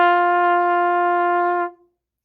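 A single sustained trumpet note, played by buzzing the lips, held steady and clear for about a second and a half before stopping, close and alone.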